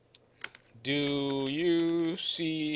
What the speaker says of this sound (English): I'm going to go ahead and start typing in my script commands here